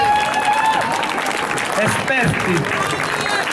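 Audience applause fills a hall at an Italian live event, steady broadband clapping running throughout, with a presenter's amplified voice talking over it and a brief tonal sound early on.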